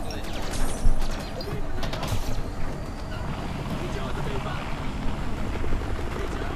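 A helicopter's chopping rotor roar in Far Cry 4 fills the scene, dense and steady, mixed with game-like sound effects.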